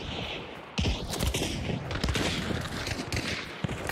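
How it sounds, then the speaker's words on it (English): Dense video-game gunfire, overlapping shots and bursts crackling loudly and continuously with sharp individual reports throughout, no clear speech. "Reloading my gun. I'm gonna rush in."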